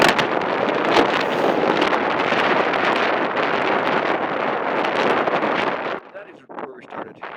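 Strong wind buffets the microphone at a mountain trailhead around 1,000 meters, a loud roaring rush that drops away near the end, with a voice heard briefly.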